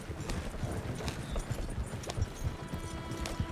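Two horses pulling a double wagon in Red Dead Redemption 2 give a steady, quiet clip-clop of hooves that carries on alone without talk.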